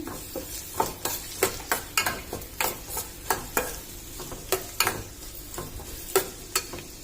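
Chopped green chillies, onion and curry leaves fry in a pan with a steady sizzle, punctuated by regular, sharp scrapes and clinks of a spatula stirring roughly twice a second.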